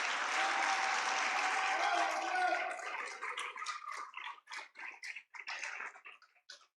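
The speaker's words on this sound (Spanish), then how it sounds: "Démosle un aplauso al Señor porque el Señor ha sido bueno" A church congregation claps in praise during a sermon, the dense applause holding for a couple of seconds before thinning into scattered, separate claps that trail off.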